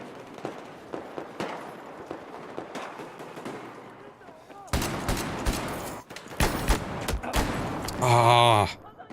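Gunshots in Battlefield in hardcore Gunmaster mode: scattered sharp reports at first, then a louder, denser run of cracks and bursts near the end, with a voice talking over the fire.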